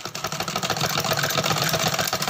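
Sewing machine stitching lace onto the border of a kameez, a steady dense mechanical whirr with rapid rhythmic needle pulsing running continuously and fairly loud, with no voices.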